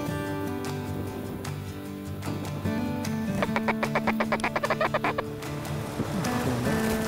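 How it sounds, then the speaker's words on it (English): Wild ducks quacking during a duck hunt on the Kansas Grand Prairie, a rapid run of loud nasal quacks over a steady outdoor background, with no voices heard. "And when those ducks would come in, they weren't focusing on us."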